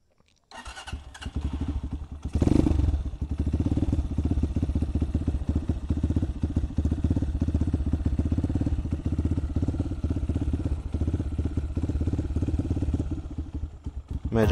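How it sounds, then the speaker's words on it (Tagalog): Cold start of a big bike, a Benelli or BMW fitted with a racing CDI and stock carburetor: a brief crank, then a loud catch and surge, settling into a steady, low-RPM idle with a rough, throbbing clatter right up close. "Cold start."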